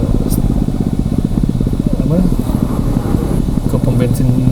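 Motorcycle engine running steadily during a ride on the Puncak Dua route near Bogor, a continuous low rumble with pulsing firing beats, loud and close throughout, mixed with road and wind noise.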